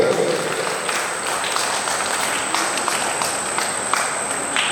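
An audience claps steadily at a Jain religious ceremony, dense continuous clapping from many hands that sounds somewhat distant, under a constant high-pitched electronic whine.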